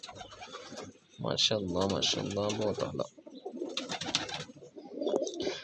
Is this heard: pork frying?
no